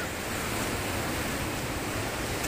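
Sea waves washing onto Tahara Long Beach in Japan, a steady, loud broadband wash of surf with wind, continuous and close, with no talking.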